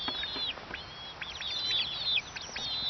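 Free-range chickens settle down for the night with high, wavering trills and soft clucks, several birds overlapping in quick bursts close by, with no talk.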